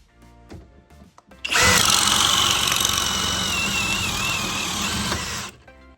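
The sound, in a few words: Cobalt XTR hammer drill drilling with paddle bit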